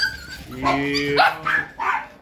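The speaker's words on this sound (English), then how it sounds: "Look at you, puppies." Puppies from a new litter give a quick series of high yips and short barks, close and loud, with a few whimpering squeals between them.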